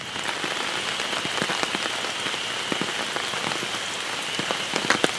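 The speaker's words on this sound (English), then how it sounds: "And then it started raining really hard." Steady heavy rain pours down, with dense patter and scattered louder drops striking a surface close by.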